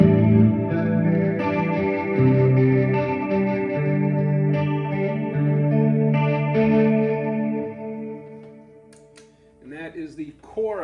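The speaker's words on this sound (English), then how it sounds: "I've added a chorus sound to this. It kind of sweetens up some clean tones" Clean electric guitar run through a chorus effect on a Line 6 POD HD500X, ringing chords and sustained notes with a shimmering, swirling tone, fading out before a voice starts speaking at the end.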